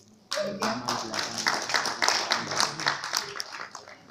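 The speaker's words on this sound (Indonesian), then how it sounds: "Tepuk tangan sekali lagi untuk Lukas dan Anak." Audience applause for the poets Lukas Jono and Arnold Dosres at a poetry event, a sudden burst of many hands clapping that starts abruptly and carries on steadily and densely, close and lively, with voices mixed in.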